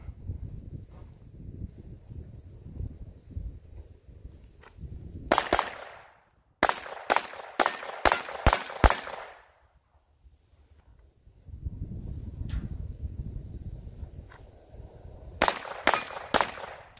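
Rapid sharp reports from a Tactical Solutions TSG-22 rifle shooting Federal ammunition at a range, fired in quick bursts of several loud shots with quiet pauses and rustling handling noise between strings.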